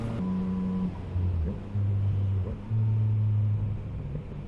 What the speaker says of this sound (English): See how when I downshift, I don't know if you can pick that up, but there's a little bit of popping when on the deceleration like that.